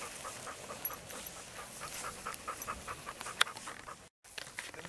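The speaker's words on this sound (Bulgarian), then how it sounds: "Куче, ловуван с курцкар, казва се Декс" A German shorthaired pointer hunting dog pants rapidly and steadily close by at an outdoor hunting gathering, its quick breaths repeating under faint background noise.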